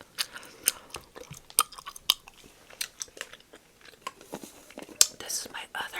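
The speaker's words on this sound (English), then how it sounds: "This is Play-Doh slime. It's supposed to have a crunchy sound to it." Crunchy Play-Doh slime is squished and worked by hand, giving irregular close-up crackles, clicks and crisp pops in quick bursts. Soft whispered talk and faint mouth sounds run underneath.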